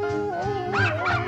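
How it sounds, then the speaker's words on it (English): Dalmatians yip and howl in wavering, rising cries over a steady hum, close and fairly loud, more whining than barking. "Oh, please don't all start barking."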